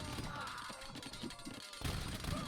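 Hand cannon gunfire in the Age of Empires II video game comes as dense overlapping battle reports and crackling shots, faint and busy, mixed with other combat noise and a jump in intensity near the end.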